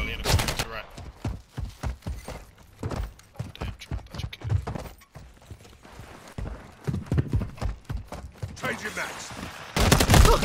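Gunfire in a Call of Duty match: irregular bursts and single loud shots crack through the scene, with players talking over the firefight and a dense volley at the very end.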